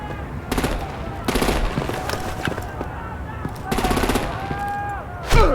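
Bursts of automatic gunfire and heavy weapon fire in the video game Batman: The Enemy Within, coming in several rapid rattling volleys with short pauses, a sharp loud burst at the end, and voices over the combat.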